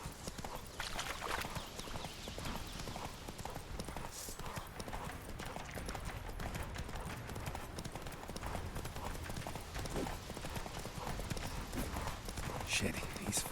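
Horse galloping in The Witcher 3 video game: rapid, continuous hoofbeat clip-clop throughout, fairly close, mixed with game ambience and occasional character voices speaking over it.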